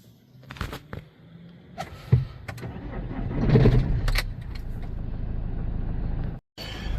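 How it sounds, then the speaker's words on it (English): An Alfa Romeo 159 starting up: a few clicks and rattles, then a rising crank that catches into a steady, close engine idle, briefly cutting out near the end. "Now we'll start the car."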